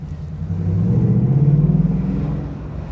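Ford Mustang GT V8 with valved exhaust set to track mode, idling with a steady deep burbling rumble that swells slightly mid-clip, close and alone without talk.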